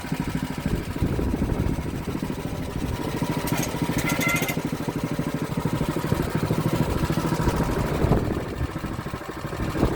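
A Hunter band sawmill's engine drones loud and close at a steady throttle while the blade takes a thin shave off a log, a continuous rumbling buzz with a brief rise in harsh, high cutting noise partway through.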